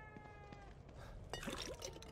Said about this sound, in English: Who's the best kitty around?